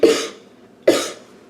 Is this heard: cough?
yes